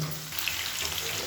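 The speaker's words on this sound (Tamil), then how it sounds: "மீடியம் ஃப்ளேம்லேயே வச்சு வதக்கிக்கோங்க." Drumsticks sauté in a pan over a medium flame for a spicy kara kulambu, a brief close sizzle with soft stirring scrapes and bubbling, steady and moderately loud.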